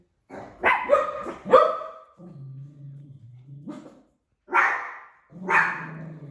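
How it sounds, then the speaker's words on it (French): A dog barking close by in a house, a few sharp yaps, then a low drawn-out growl or whine, then two more separate barks after a short pause, loud and clear with no talking. "Parce que ce chien-là que vous voyez, c'est le diable."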